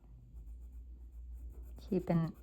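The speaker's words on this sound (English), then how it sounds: "Now I'm just coloring the bottom half with this green" A green colored pencil scratches steadily across paper while filling in part of a Johanna Basford Magical Worlds coloring page, a soft continuous rasp close by, with a brief voice starting at the end.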